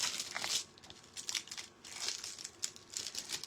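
Foil crinkles and tears as it peels away from a wood or natural stone tile coaster, close-up in irregular crackling bursts with brief pauses, no talk.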